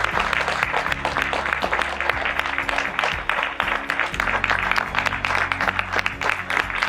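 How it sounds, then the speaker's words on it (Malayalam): Sustained audience applause at the KIM–Raagalaya Awards 2026 felicitation ceremony in Mumbai, as a Lifetime Achievement Award honoree comes to the stage; dense, steady clapping fills the hall over a low musical hum. "you have received such a big applause from the Keralites of Mumbai"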